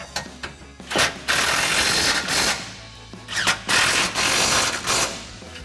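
A ratchet with a 19 mm socket tightening a bull bar bolt on a 2007-2018 Silverado 1500, rapid clicking bursts repeated several times, close and clear with no talking.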